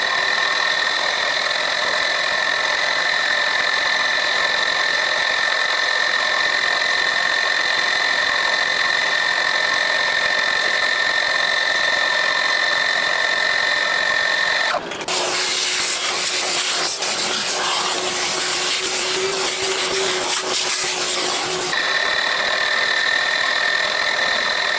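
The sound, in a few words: lathe cutting chamfers on a workpiece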